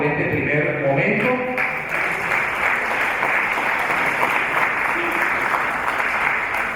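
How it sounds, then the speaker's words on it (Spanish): An audience at a film club screening applauds: steady, dense clapping from many hands, loud and close, lasting throughout, with a voice briefly heard at the start. "un fuerte aplauso por este primer momento"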